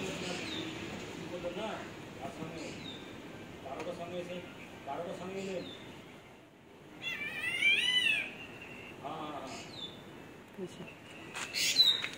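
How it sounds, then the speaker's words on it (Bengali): Birds chirp and call in short bursts with a louder warbling trill midway, mixed with cat meows nearby and soft talk from a person throughout. "কি করছে পাখিগুলো? কেমন আওয়াজ করছে?"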